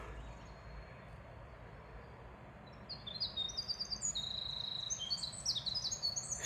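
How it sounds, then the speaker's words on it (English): A winter wren sings in the Appalachian woods, its high, rapid, tumbling trills thin and fairly distant over a steady low background rumble, continuing for several seconds with no voices. "Listen to the bird. Winter wren."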